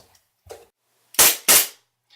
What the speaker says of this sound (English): We just have a gun range downstairs, and Titus is trying it out.